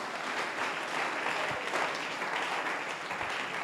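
A church congregation breaks into steady, dense applause with cheering, filling the whole stretch loudly and without pause.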